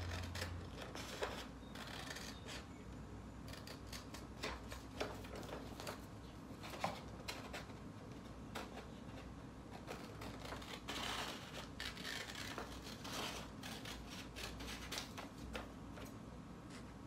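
Scissors snipping through fleece fabric along a paper pillow template, quiet, close, rapid crisp cuts repeating steadily throughout.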